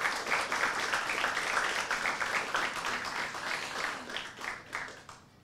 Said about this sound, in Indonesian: Saya boleh minta tepuk tangannya untuk teman-teman yang sudah tampil.